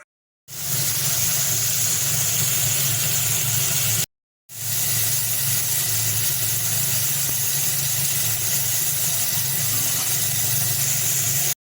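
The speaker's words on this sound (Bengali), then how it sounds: "তো তেলটা গরম হতে দিই, নিয়েরে মাছের ভেজে নেবো" Niyere fish frying in hot oil, a steady broadband sizzle with a low rumbling undertone, running continuously apart from one brief break, no voices.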